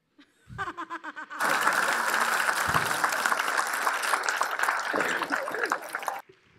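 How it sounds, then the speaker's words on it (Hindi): An audience breaks into loud, sustained applause after a short rising patter of first claps, with scattered chuckles and laughter mixed into the thick clapping before it stops abruptly. "हर 5 मिनट बाद जो तालियां बज रही है"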